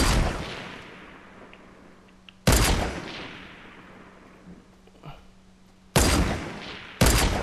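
Sniper rifle shots in Fortnite: four sharp, loud reports at uneven intervals, each trailing off in a long echoing tail, with faint background noise between them.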